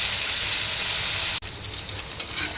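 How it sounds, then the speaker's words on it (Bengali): Garlic, onion and dried chili fry in oil with a steady, close hiss and crackle that dips briefly mid-way, then resumes with a slightly duller sizzle and a small pop near the end. "আমি এটাকে 5 থেকে 10 মিনিটের মতো একটু তেলের মধ্যে ভেজে নেব"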